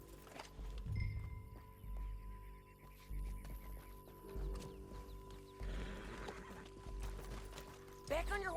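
Horse riding in Red Dead Redemption 2: soft hoof clops and movement sit under a steady game hum while voices talk throughout.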